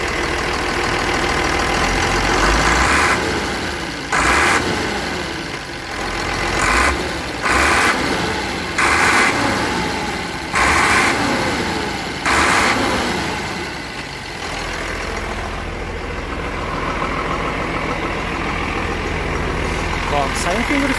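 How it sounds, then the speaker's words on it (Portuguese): A Mercedes-Benz 1718A 4x4 truck's diesel engine idling roughly, then revved in several short bursts that rise and drop back, close and loud, with someone talking over parts of it. "vou dar uma acelerada aqui pra escutar o barulho"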